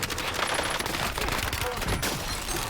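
In Call of Duty Warzone on Rebirth Island, a Kilo 141 lets off rapid automatic fire, loud and close, in a dense, continuous rattle over a few seconds.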